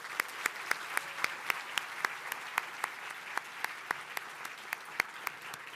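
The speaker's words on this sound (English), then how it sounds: "give the first place teams one more round of applause" Sparse, scattered clapping from an audience honoring first-place student teams at the 2023 Solar Decathlon, with individual claps ringing out irregularly across a quiet hall at moderate distance.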